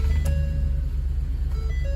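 A mobile clinic vehicle equipped with a wheelchair lift idles after being powered on, with a close, steady low engine rumble and faint intermittent tonal beeps above it.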